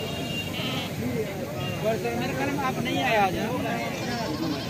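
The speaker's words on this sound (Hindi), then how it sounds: "ये आप देख सकते हैं बकरी है" Goats bleat at a livestock market in Lasbela, with several wavering cries rising over a busy background of chatter and people talking close by.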